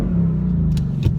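A 2018-2019 Ford Mustang GT with a 10-speed automatic revs in neutral, a loud, steady close engine rumble holding for the whole brief moment.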